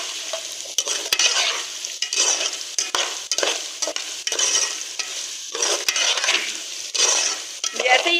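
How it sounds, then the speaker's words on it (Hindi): Potatoes and cumin seeds fry in a pan, a steady close sizzle broken by repeated scraping stirs and occasional utensil clicks against the pan, with no voices. "इस ज़ीरे के साथ हमने आलूओं को फ्राई करना है"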